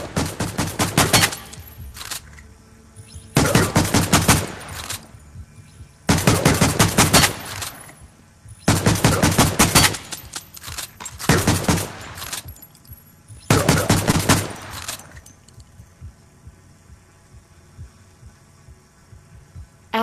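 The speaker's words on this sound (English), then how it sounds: "Take a pistol and shoot 7 times." Pistol fire in the VR parkour game Stride comes in several loud, close bursts of sharp repeated cracks, each group separated by short quiet pauses.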